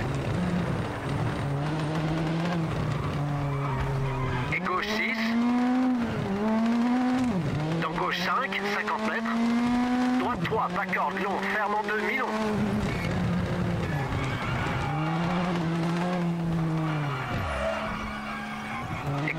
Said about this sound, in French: C'est normal que ma voiture elle fasse un bruit de tondeuse à gazon.